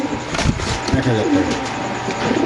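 Caged pigeons coo steadily in low, throaty bursts, close by, against a busy background hum.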